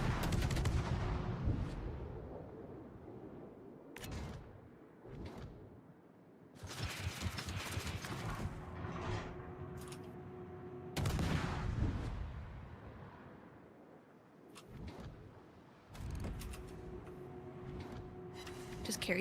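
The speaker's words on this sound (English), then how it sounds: "Oh, no, he's shooting." Enemy ship guns fire in World of Warships as a series of sharp, loud salvos with rumbling tails, spaced irregularly through the stretch with quieter gaps between volleys.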